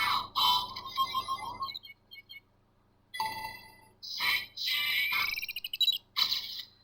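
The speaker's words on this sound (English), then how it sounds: "we are in smartphone mode, so let's press the button a few times" A Kamen Rider DX Chemy Smaphone toy in smartphone mode plays electronic chimes, beeps and ringtone-like jingles as its button is pressed several times, with short gaps between bursts, quiet and without talk.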